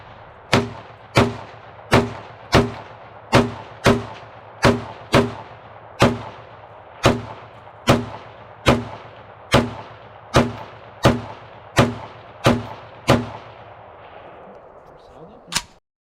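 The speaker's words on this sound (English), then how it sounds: "let's put a few rounds to it. 553LB with GP90." A SIG SG553LB rifle firing Swiss GP90 5.6 mm rounds outdoors: about seventeen loud single shots in a steady, unhurried rhythm, each with a short ringing tail, then one final shot after a brief pause.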